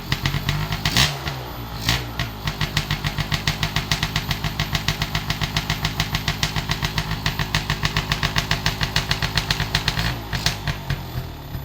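A motorcycle engine runs steadily with a fast, regular rhythmic pulse throughout, loud and close, with a couple of brief revs or blips near the start and end.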